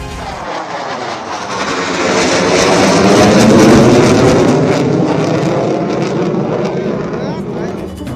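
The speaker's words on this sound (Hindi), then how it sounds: "राफेल, जैगुआर जैसे लड़ाकू विमान टच एंड गो की प्रैक्टिस करते दिखे।" Rafale and Jaguar fighter jets roar low over the Ganga Expressway during touch-and-go practice, a loud broad engine rush swelling and fading over several seconds.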